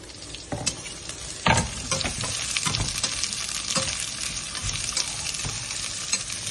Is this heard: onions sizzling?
yes